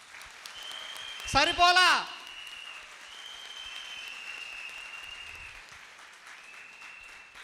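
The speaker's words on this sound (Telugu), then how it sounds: "ఒక్కసారి లక్ష్మి గారికి జోరుగా క్లాప్స్" A training-camp audience gives brief applause for a woman named Lakshmi, a short burst of clapping lasting under a second amid a speaker's voice, followed by a persistent high whine over quiet room tone.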